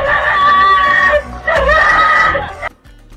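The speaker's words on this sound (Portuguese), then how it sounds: "o cachorro latiu, gritou, fez o escândalo" A dog on a rural property barks and yelps frantically while confronting a leopard, a loud, sustained, strained outburst that cuts off near the end.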